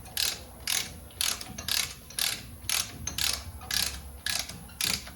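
Ratchet clicking in repeated bursts while compressing brake caliper pistons on a 2012 Chevrolet Silverado 6.0L hybrid, about nine rhythmic close, loud strokes of rapid pawl clicks with short pauses between them.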